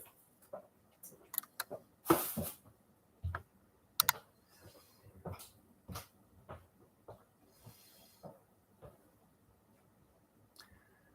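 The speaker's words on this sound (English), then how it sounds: "Try typing that word in again." Typing on a computer keyboard, with irregular clicks and taps spread through a quiet indoor room, fairly faint, with a few louder knocks and no clear talking.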